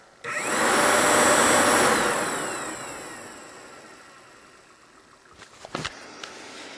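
Yamaha YZF1000R radiator fan wired straight to a battery whirs up loudly at once, then gradually winds down, followed by a few clicks and knocks near the end.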